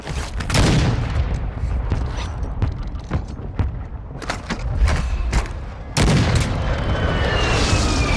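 Repeated heavy artillery explosions and bursts of gunfire from a fire mission in Call of Duty Warzone, rumbling booms landing in clusters with a loud barrage near the start and another around the six-second mark.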